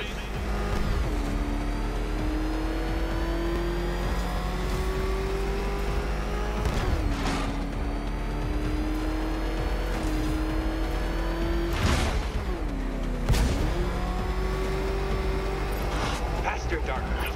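Batmobile engine from Batman: Arkham Knight revving steadily with a droning, slowly rising pitch and sharp surges around the middle and end, a voice talking over it throughout.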